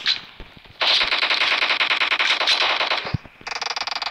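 A Bren machine gun in PUBG fires a sustained rapid burst of loud, even shots lasting over two seconds, then a short faster volley, with a few clicks before it.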